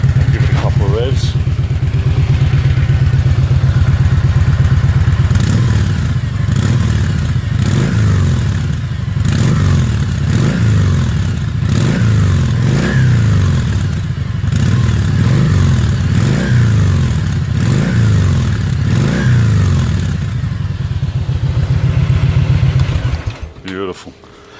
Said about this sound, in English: I'll give it a couple of revs.